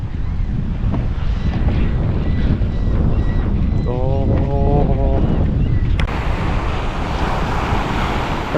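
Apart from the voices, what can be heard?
strong ocean waves on a Miami beach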